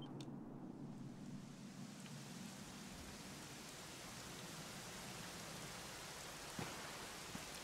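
Steady rain falls in the video game Dragon Quest XI, a dense, even hiss of drops that holds at the same level throughout with no voices over it, and a faint rumble low underneath.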